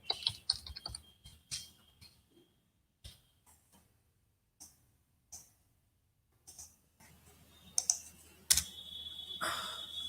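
Keys clatter on a computer keyboard as an SQL query is typed, in quick bursts of clicks separated by pauses, fairly faint and close, with a sharper cluster of keystrokes near the end.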